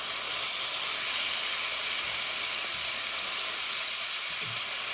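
Big strips of bacon sizzling in a big pan, a loud, steady, dense hiss that runs without a break and has no talk over it.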